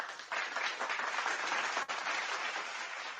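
A crowd's applause plays as a dense, steady wash of clapping lasting about three seconds, with a brief dip near the middle and no voices over it.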